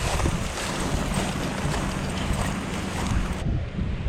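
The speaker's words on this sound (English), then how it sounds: "Up on top of the levee here, it is really windy" Strong wind buffets the microphone atop a levee beside an industrial canal, a continuous loud roaring rumble with gusty swells that drops abruptly near the end.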